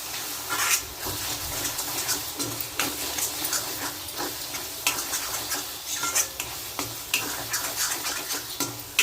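Tomato curry seasoned with chilli powder and cumin-coriander powder is stirred in a pan, with repeated scraping spoon strokes over a soft, continuous sizzle, close and moderately quiet.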